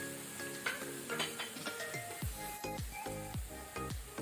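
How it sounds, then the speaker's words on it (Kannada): Coriander, turmeric, chilli and garam masala powders frying in a pan over a low flame, giving a quiet, soft sizzle broken by repeated scraping strokes of stirring. "ಈಗ ನಾವು ಲೋ ಫ್ಲೇಮ್ ಅಲ್ಲಿ ಇದನ್ನು ಸ್ವಲ್ಪ ಒಂದು 30 ಸೆಕೆಂಡ್ಸ್ ಇದನ್ನು ಫ್ರೈ ಮಾಡ್ಕೊಳ್ಳೋಣ"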